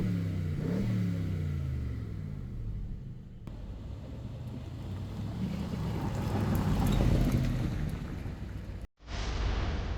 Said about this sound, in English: Every upshift smacks, every downshift crackles, and the throttle response in Sport Plus, it's absolutely feral.